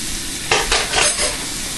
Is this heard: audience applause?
no